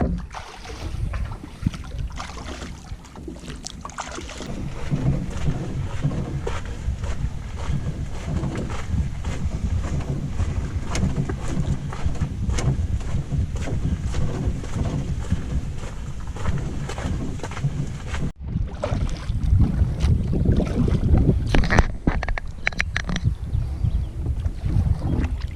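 Canoe paddling on Canoe Lake in Algonquin Park, a steady wash of water and wind noise buffeting the microphone throughout, with a brief dropout near the end before the rushing water sound returns slightly louder.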